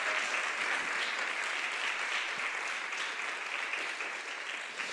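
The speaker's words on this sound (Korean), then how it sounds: "감사의 박수 한번 드리겠습니다" A church congregation at a youth retreat applauds a visiting pastor with loud, dense, sustained clapping that fills the whole stretch without a break.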